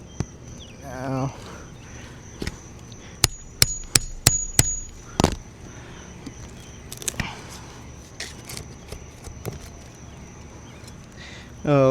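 A hammer and pry bar strike and scrape while pulling nails from roof shingles, with a cluster of sharp metallic knocks in quick succession, scattered taps, and someone talking quietly in between.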